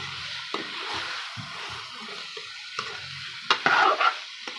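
Capsicum and potatoes sizzle steadily in a frying pan while a spoon stirs them, with close scraping strokes and brief louder clatters near the end.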